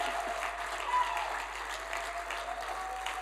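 A conference audience breaks into dense, sustained clapping that fills the hall from start to finish, with some voices mixed into the crowd noise.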